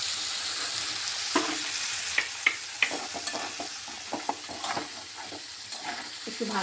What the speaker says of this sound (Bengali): একটু ভালোভাবে নেড়ে চেড়ে চালটাকে ভেজে নিচ্ছি